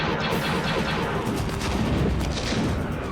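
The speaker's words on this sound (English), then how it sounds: "Forward cannon, let him have it." Blaster cannon fire from a starship's forward guns in a Star Wars Clone Wars space battle, a dense continuous barrage of booming shots and rumbling blasts that stays loud throughout.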